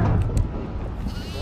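A goat in the horror game Devour lets out a couple of short bleats near the start, brief and fairly faint over low rumbling game ambience.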